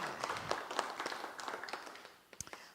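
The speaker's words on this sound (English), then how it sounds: "Give her another round of applause." An audience at a spiritual community service applauds, a dense patter of clapping that thins out into a few scattered last claps.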